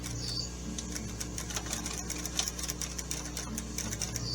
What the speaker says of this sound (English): then I start sewing